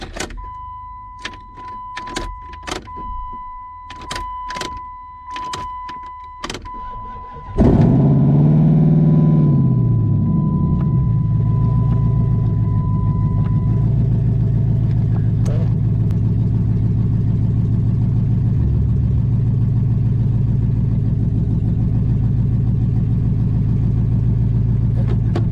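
A Dodge Magnum's engine cranks and catches after several sharp clicks and a steady chime, then settles into a loud, close, continuous idle with a deep rumble that holds steady to the end.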